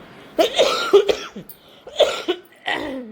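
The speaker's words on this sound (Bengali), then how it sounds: "মা গো, আমার কাশিটা ঠিক হচ্ছে না, যখনই কাশি শুরু হয়ে যাচ্ছে।" Several harsh coughs come in short bursts close by, separated by brief pauses.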